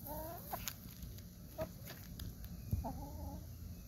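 Hungry hens cluck in short scattered bursts while feeding on the first day of June, with a few louder close calls over a low rustling farmyard background.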